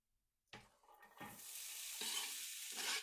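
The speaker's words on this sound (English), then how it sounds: "Ooh, sizzle, sizzle." Onion frying in 2 tablespoons of olive oil in a pan, a steady broadband sizzle that starts abruptly and holds, broken by a few low clunks of stirring, close and fairly quiet.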